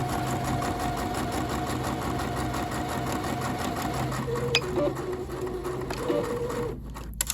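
Necchi NC-102D sewing machine stitching continuously at a close, fairly loud level, the even mechanical chatter running nearly throughout before slowing with a few clicks at the end.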